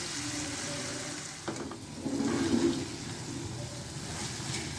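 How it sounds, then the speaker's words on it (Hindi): Tomatoes, onion and grated potato frying in hot oil in a pan, a steady sizzle with a sharp clatter partway through and a louder burst of frying just after, then settling back to a constant hiss. "ऑयल गरम हो गया था, हमने इसमें टमाटर, प्याज और ग्रेट किया हुआ आलू डाल दिया"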